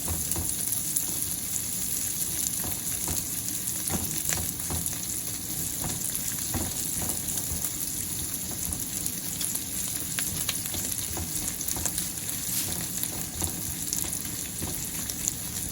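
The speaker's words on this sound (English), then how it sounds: "I'm going to saute that for about 10 seconds." Ingredients for cucumber fried rice sauté in a hot pan with a steady, close sizzle and crackle throughout, broken by faint stirring scrapes.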